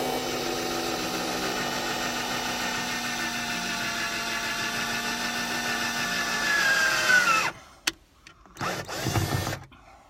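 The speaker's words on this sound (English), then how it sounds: "to make a pilot hole, because those metal screws" Power drill boring a pilot hole for metal screws in a van build, a steady close whine that rises in pitch and stops, followed by short bursts of the drill revving.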